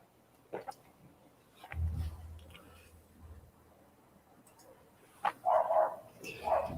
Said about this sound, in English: My dog is literally barking downstairs.